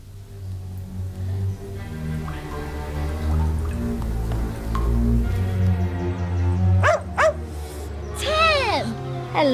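A dog barks and whimpers in a dungeon scene from a 1995 adventure TV movie, with sharp yips and rising whines near the end over a low rumbling background.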